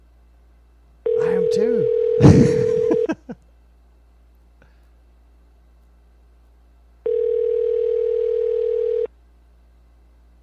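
A telephone ringback tone sounds on a call in two long steady pulses separated by a pause, with a brief spoken remark and some handling noise during the first ring.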